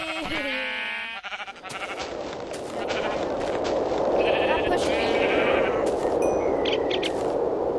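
A sheep in the Minecraft Tekkit modpack gives a few short, wavering bleats at the start, followed by a dense wash of noisy in-game sound effects and a couple of bright dings.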